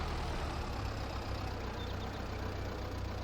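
Tractor engine in Farming Simulator 22, a steady low idling rumble running continuously and fairly loud throughout, with no voices over it.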